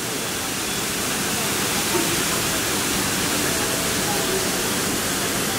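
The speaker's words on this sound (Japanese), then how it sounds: "滝壺が見えます。" A waterfall in the Beauty and the Beast area of Tokyo Disneyland gives off a steady, dense rush of falling water that fills the whole scene without a break.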